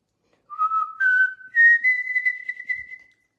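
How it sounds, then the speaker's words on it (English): A single clear whistle, a short rising tone followed by a longer sustained steady note, heard alone in a quiet kitchen while making chocolate pots de crème. "The whistle."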